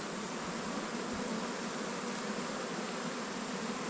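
Dense, steady buzzing of honey bees swarming around an open hive during a honey harvest, a continuous close drone filling the whole stretch with no voices.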